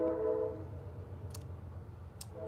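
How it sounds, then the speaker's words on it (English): A train passes in the background outdoors in Tampa, giving a short, hoarse horn blast at the start over a low, continuous rumble of rolling cars, distant and moderately loud. "Sorry about the train noise in the background."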